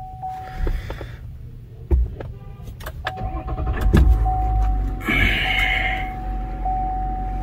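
A 2020 Chevy Silverado with the Duramax 3.0L diesel, showing a glow plug fault, is switched on: a steady chime tone and clicks come first, then a thump as the engine cranks and catches into a running rumble.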